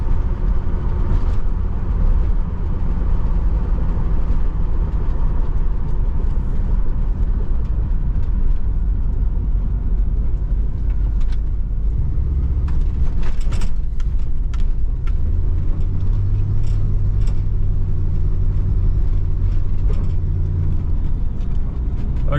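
A 1979 Pontiac Trans Am 10th Anniversary, back on the road after sitting 30 years, drives with a steady, loud low rumble of engine and road noise that runs unbroken throughout.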